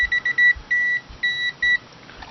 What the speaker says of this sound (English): It's beeping. It's detecting voltage in the circuit breaker.